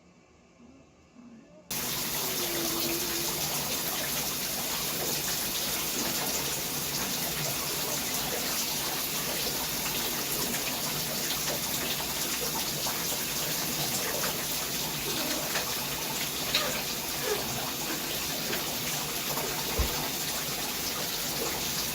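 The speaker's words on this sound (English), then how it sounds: "Is there a reason you have your water on?" A tap left running pours water steadily and loudly, a constant broadband rush that holds unbroken for about twenty seconds after a brief quieter moment at the start.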